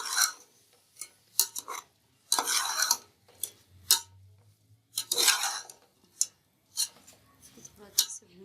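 Chana chaat being stirred and fried with tamarind pulp in a pan, giving scraping spoon strokes and clinks in irregular bursts over a faint low sizzle, close and moderately loud.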